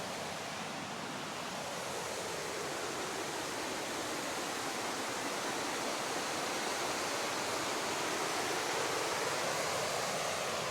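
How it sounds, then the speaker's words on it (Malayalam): A stream of water coming down from the Pullikkanam hills in Kerala rushes and overflows across a path, producing a constant, dense roar that is steady and unbroken from start to finish. "ഇത് ശരിക്കും പുള്ളിക്കാന മേഖലകളിൽ നിന്ന് വരുന്ന വെള്ളമാണ്"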